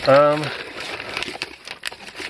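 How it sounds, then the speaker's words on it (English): Plastic packaging crinkles and rustles as a box is pulled out, with a short burst of voice at the very start, then irregular close crackling. "let's take that box out"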